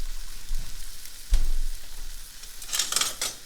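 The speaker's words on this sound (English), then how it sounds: "we're going to get it all charred up nicely on this cast iron" Jalapeno, lime, avocado and onion char on a hot cast iron pan, with a steady close sizzle, a couple of low thumps as pieces are moved, and a brighter crackling burst near the end.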